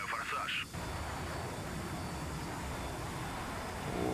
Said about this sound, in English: Afterburner.